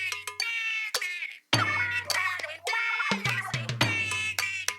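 Splatoon 3 backstreet music heard in Splatsville while no Splatfest is on: a bouncy electronic track with choppy, stuttering synth phrases over punchy bass hits, played alone without talk.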